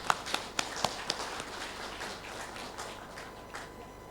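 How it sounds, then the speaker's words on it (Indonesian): Scattered, uneven hand claps from an audience at a national work meeting of the Al Multazam Group, with sharp separate claps early that thin into a faint spattering of applause. "mari kita tepuk tangan untuk senior-senior saya"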